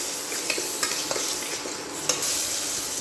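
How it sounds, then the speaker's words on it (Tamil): Onions and tomatoes for a potato gravy sizzle steadily in a hot pan, with occasional soft scrapes and taps of a stirring spoon over the continuous frying hiss. "இதுக்கப்புறம் கொஞ்சம் தக்காளி ஆட் பண்ணிக்கலாம். இது ஒரு வணக்கி விட்டுலாம் நல்லா."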